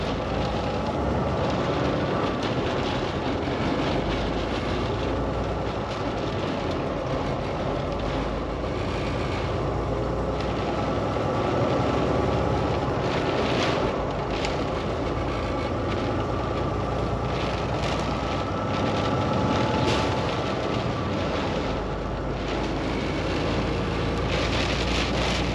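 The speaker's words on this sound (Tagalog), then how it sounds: "kung ganito ka kalakas ang ulan" Heavy rain and wind drumming on a truck cab while driving through a storm in Canada, a loud, unbroken roar of rain, wind and road noise lasting throughout.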